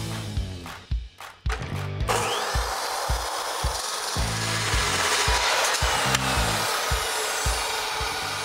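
A power tool cuts a steel tube for a tie rod bar on a Jeep DJ5 steering build. A few short bursts come first, then a steady, loud, grinding cut runs to the end. No one speaks.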